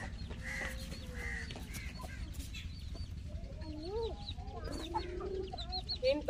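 Hens shut inside baskets cluck and call repeatedly, with a few louder, rising squawks toward the end over a steady low background hum, fairly close and without talking.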